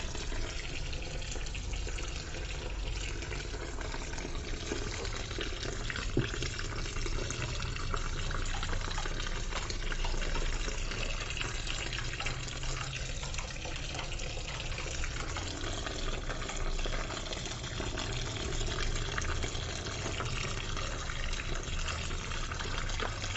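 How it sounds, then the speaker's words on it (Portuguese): A kitchen tap runs at full flow while dish towels are being washed, giving a steady continuous rush of splashing water with no voices over it. "E eu vou ligar de novo a torneira"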